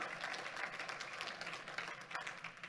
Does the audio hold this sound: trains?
no